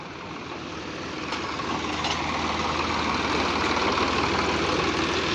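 A tractor engine runs at a steady idle nearby, a continuous low rumble that grows slightly louder and holds without any talk.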